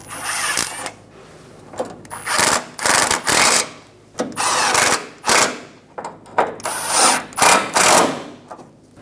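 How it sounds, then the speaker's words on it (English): A ratchet snugs down the brace bolts for a fog light on a 2014–2018 Chevrolet Silverado 1500, a run of quick rhythmic clicking bursts with short pauses between strokes, close and fairly loud. "Snug the bolts down."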